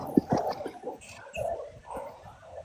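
A dog at home gives a few short, mid-loud barks and yips in quick bursts, with brief gaps between them and no talking over the sound.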